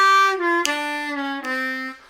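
A short blues phrase on a C harmonica with draw notes bent downward, the pitch sliding lower across three connected tones, played close and clear with no talk.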